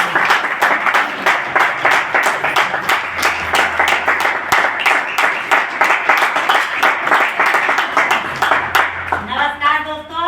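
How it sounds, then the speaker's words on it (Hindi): Audience at a company meeting clapping together for about ten seconds, a dense patter of many hands, close and loud, fading out as a voice begins speaking at the end. "तो उनके लिए एक जोरदार ताली हो जाए दोस्तों।"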